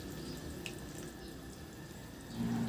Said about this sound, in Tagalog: Lagyan ko na rin ng tubig.